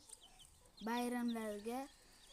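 A single chicken gives a drawn-out, rising cluck lasting about a second, clear and close against a quiet background.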